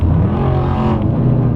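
A cammed C5 Corvette V8 pulls hard under acceleration, a loud, steady, rumbling engine roar from close by that holds for a second and a half with no voices over it.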